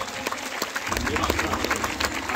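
Applause from an audience for the musicians at an evening concert of Buddhist and Bhim songs, a dense, steady patter of many hands filling the hall, with a voice faintly mixed in.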